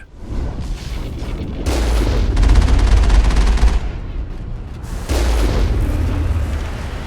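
Sci-fi gunfire in a Star Trek video game, dense rapid bursts of loud blasts and booms in two extended volleys, close and continuous over a rumbling game background.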